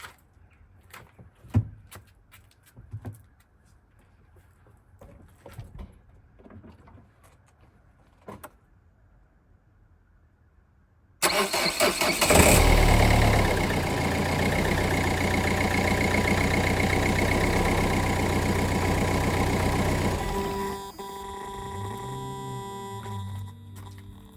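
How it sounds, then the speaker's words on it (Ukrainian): An old car with a weak five-year-old battery is jump-started in cold weather. After a quiet stretch of faint clicks, the engine suddenly cranks and catches loudly, roars steadily for several seconds, then settles into a lower idle. "Зараз спробуємо запустити автомобіль."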